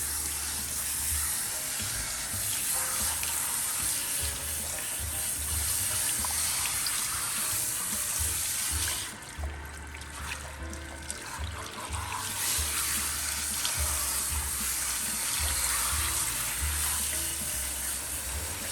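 Water runs steadily from a salon sink tap while hair is rinsed, a continuous close hiss and trickle with faint splashing that holds through the whole stretch and briefly softens midway.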